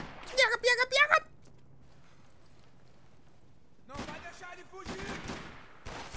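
Gunfire from Max Payne 3 breaks out in several bursts of rapid, sharp shots, a cluster early on and then a dense volley near the end, with a quieter stretch between.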